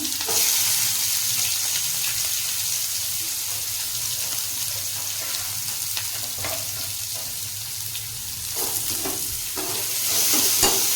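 Onion and curry leaves fry in a pan with a steady, close sizzle, stirring clatter breaking through now and then and a burst of louder crackle near the end; nobody talks.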